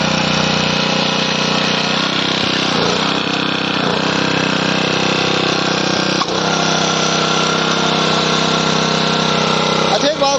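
A Honda F300 power weeder engine runs loud and close at a steady drone throughout, with slight load changes and a brief dip near the middle, while people talk over it.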